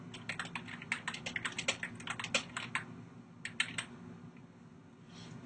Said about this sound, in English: I'm going to just click here and type in some text.